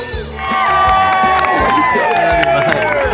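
Wedding guests at a surf-style celebration in the Algarve, Portugal break into loud cheering on cue, a close burst of whoops, shouts and some clapping that rises quickly and holds strong.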